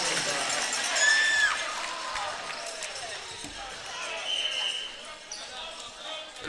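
A crowd at an Oak Ridge High School students-versus-teachers basketball game cheers in a broad, steady roar that eases off gradually. Sneakers squeak on the gym floor under the noise, and a commentator talks over it.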